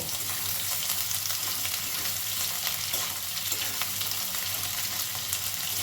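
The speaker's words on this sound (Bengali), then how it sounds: "দিয়ে দেবো কুচনো পেঁয়াজ দিয়ে দেবো কুচি করে রাখা রসুন খুব ভালো করে এবারেও নাড়াচাড়া করব" Chopped onion and garlic frying in oil with boiled potatoes while being stirred, a steady close sizzle throughout with scraping stir movements and no talking.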